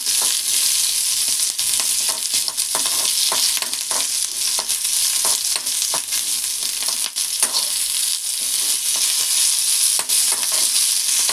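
Green chilies frying in a pan for gongura chutney, a loud, continuous hissing sizzle with frequent light scrapes and taps of a stirring spoon, heard up close with no voices.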